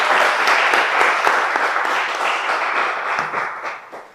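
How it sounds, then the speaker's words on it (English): An audience at an aviation industry event bursts into loud, dense applause, a continuous wash of many hands clapping that holds steady and then begins to fade toward the end. "So I'd love for you to give yourself a round of applause for just heeding the call to be here."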